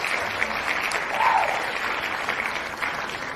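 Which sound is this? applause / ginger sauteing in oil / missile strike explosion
applause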